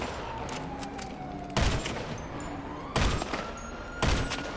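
Gunshots in GTA 5 Online during a sniping and shooting session: three sharp, loud bursts at roughly even intervals, each a heavy crack with a short tail, over a steady bed of ambient game sound.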